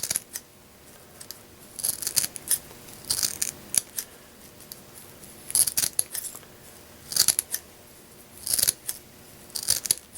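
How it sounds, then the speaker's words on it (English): Repeated crisp snips of stout scissors chopping through a stiff furnace filter, close up, in irregular bursts of two or three cuts with short pauses between. "Now this takes some pretty stout scissors."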